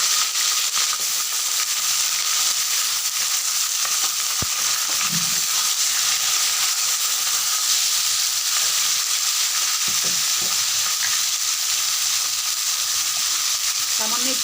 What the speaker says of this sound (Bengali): এবার আমি চিকেনগুলোকেও ভেজে নেব।